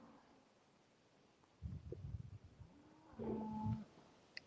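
Cattle on a windswept hillside farm give low, rumbling moos in two separate bursts, moderately close over soft wind noise, with no voices.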